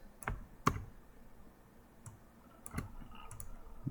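Scattered clicks of typing on a computer keyboard, a few sharp keystrokes spaced irregularly with quiet gaps between, close but soft.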